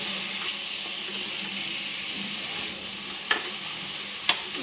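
Raw jackfruit pieces coated in masala, sprinkled with a little water, sizzle and hiss steadily in a pan while being stirred, with a couple of sharp spoon scrapes near the end and no talking.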